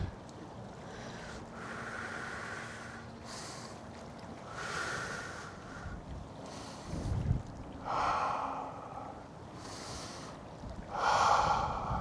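Rhythmic breathing in and out during a low-impact mobility and strength workout for seniors, several audible breaths and exhales spaced over a steady background hiss, with no talk.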